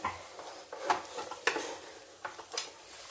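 A spoon stirs jackfruit avial in a pan, giving a few scattered scraping clinks against the metal over a faint sizzle, close and fairly quiet.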